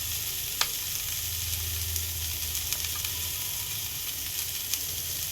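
A ground paste of coconut, turmeric and cumin sizzles steadily as it fries in hot oil, a loud continuous crackle with occasional stirring scrapes and pops throughout.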